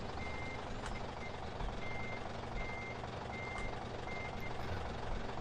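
A truck in Farming Simulator 2013 backs up with a trailer, sounding regular evenly spaced reversing beeps over a low idling engine rumble, fairly faint.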